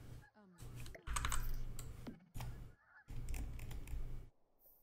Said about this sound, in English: I can hear geese or something. Are they geese?